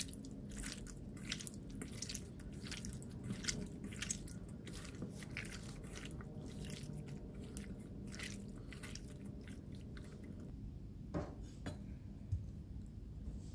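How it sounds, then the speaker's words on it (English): Raw beef being mixed by hand with about two tablespoons of calamansi mix for Filipino bistek, giving a steady run of wet squishing, slapping clicks close by, with no talk. "So I'm just gonna be using the calamansi mix, about 2 tablespoons, and then just mix it."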